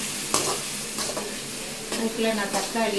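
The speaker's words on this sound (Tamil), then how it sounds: "வெங்காயம் நல்லா வதங்கட்டும்" Onions sauté in a pan at home, a soft steady sizzle with a few scraping stirs and clinks of a spoon against the pan, close and moderately quiet.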